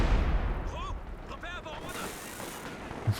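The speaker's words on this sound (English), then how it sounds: "For a base barrage into the British base." An artillery base barrage in the video game Company of Heroes 2: heavy low booms and rumbling fire beneath someone commentator's talk, with a final thud near the end.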